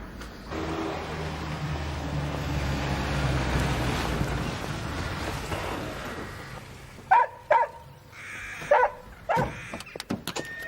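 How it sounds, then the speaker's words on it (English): A dog barks several times in short, sharp bursts near the end, after a stretch of low rumbling background noise. The barks sound fairly close and stand alone, with no talk over them. "what's that wretched dog doing here?"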